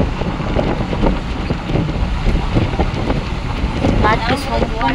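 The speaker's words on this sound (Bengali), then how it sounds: "আর এত হাওয়া দিচ্ছে, প্রচুর জোরে জোরে হাওয়া দিচ্ছে" Strong wind buffets the microphone at the seashore, a continuous loud, rough roar with no breaks, and a faint voice surfaces briefly near the end.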